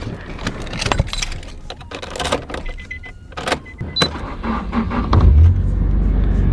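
Keys for a Nissan S15 Silvia jangle in a series of sharp metallic clinks and rattles close by, followed by a low rumble as the car is entered and started.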